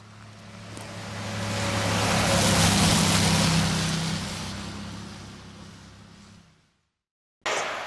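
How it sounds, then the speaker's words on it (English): Steady broadband workshop noise fills the room, a loud rushing hiss with a low machine hum that swells and fades, stops abruptly near the end, then cuts back in briefly. "Apologies for the noise, but we are in a workshop."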